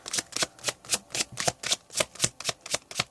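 Tarot cards being shuffled hand over hand, a regular series of about a dozen quick, crisp rustling swishes close up with no voices.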